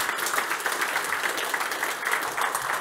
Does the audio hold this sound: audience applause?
yes